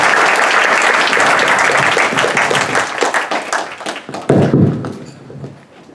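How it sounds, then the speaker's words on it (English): Dense applause from a temple audience at a Krishna devotional katha gathering, steady and full for several seconds, with a heavier burst of claps and thumps near the end before fading. "Let's give another big round of"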